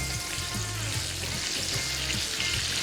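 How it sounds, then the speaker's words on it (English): Korean fried chicken pieces sizzling loudly in hot oil during a second fry for a burger, a constant dense crackle and hiss with no talk. "The double fry, make that super crispy as you like it."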